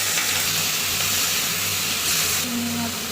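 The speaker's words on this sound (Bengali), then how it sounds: "চিংড়ি মাছগুলো ভাজা হচ্ছে এখন।" Prawns frying in a pan with water just added, making a steady broadband sizzle and steamy hiss that continues loud and unbroken throughout, close to the pan, with faint kitchen sounds beneath.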